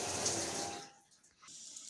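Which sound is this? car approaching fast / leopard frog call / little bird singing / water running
water running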